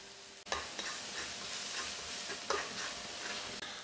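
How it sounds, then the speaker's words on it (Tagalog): Onion and garlic sizzle in hot oil, giving a continuous close frying hiss with occasional scrapes and clacks of stirring. "Magigisa na tayo dito ng onion"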